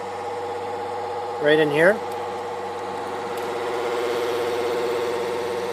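An electric motor on a gate arm gives off a steady, tonal hum with a faint whine, continuous and close, while someone briefly speaks over it.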